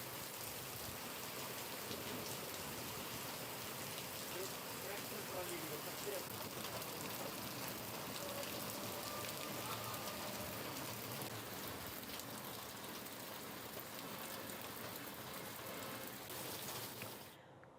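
Heavy rain pours down in a dense, unbroken hiss that stays even throughout, then cuts off abruptly at the very end.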